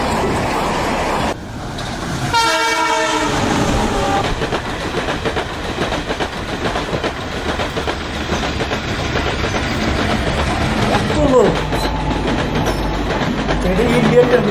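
Indian and Bangladeshi passenger trains running along the tracks, a loud steady rumble of wheels and carriages throughout, with a long tonal horn blast near the start.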